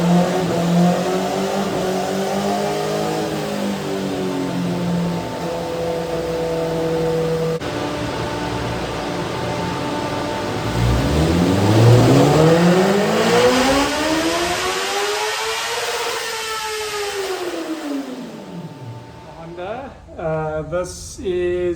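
A 2017 Honda CBR1000SP2 motorcycle engine revs on a dyno, climbing steadily in pitch to a loud high-rpm peak, then dropping away and falling quiet, with a voice speaking over it.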